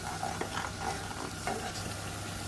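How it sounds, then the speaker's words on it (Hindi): Spice masala roasting in a pan while being stirred, a steady soft sizzle with light scraping strokes, faint and continuous. "अभी आपको इस मसाले को अच्छे से भूनना है।"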